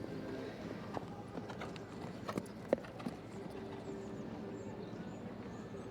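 Horse hooves clip-clopping quietly and at a distance in a steady rhythm across an arena during a CCI5* long-format eventing dressage test, with a few louder footfalls among soft background noise.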